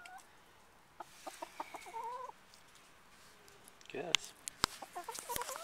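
A hen clucks softly in a dog house, short broken calls rising and falling close by, mixed with rustling and a voice speaking briefly.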